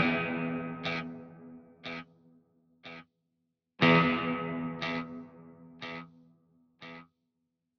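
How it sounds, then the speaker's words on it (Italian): Electric guitar through an Axe FX III with reverb placed before delay: two strummed chords, each followed by a train of fading delay repeats carrying reverb tails, spaced about a second apart, clear and alone. "mettendo il riverbero prima del delay effettivamente si comporta come due blocchi in serie e sentiremo il riverbero pure sulle ripetizioni del delay"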